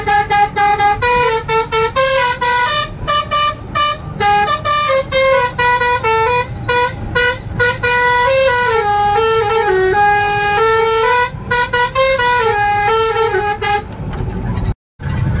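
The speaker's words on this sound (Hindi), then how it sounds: "रमेश भाई वो हॉर्न बजाना" A vehicle horn blares loudly and almost continuously, sounding in a melodic, tune-like pattern of rising and falling tones.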